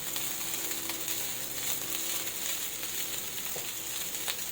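A ladle stirs and breaks up fried rice in a hot pan, with faint scraping beneath a constant close sizzle.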